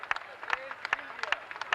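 A crowd claps and cheers outdoors as the queen of the Fiestas Patrias arrives at a September 16 celebration in San José, in sharp, uneven bursts of applause.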